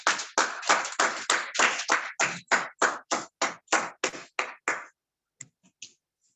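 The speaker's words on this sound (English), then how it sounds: "A round of applause for her" Roughly fifteen evenly spaced sharp claps ring out close and alone at an induction ceremony, then trail off into a few faint taps and quiet.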